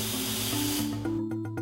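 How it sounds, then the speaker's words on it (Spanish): A can of aerosol spray hisses at a non-woven face mask in a filtration test, one continuous loud burst that cuts off near the end, followed by a few faint clicks. "La prueba del aerosol nos da una primera pista de su eficiencia."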